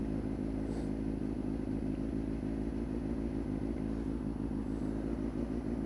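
A 1992 Honda CB motorcycle rides steadily while lane splitting, its engine a constant low drone with wind rush and clatter, loud and unbroken throughout with no talking.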